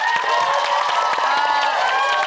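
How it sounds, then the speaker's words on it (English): Studio audience on a reality TV companion panel show applauds and cheers, a dense wash of clapping with some excited voices, loud and close throughout. "A round of applause, I think."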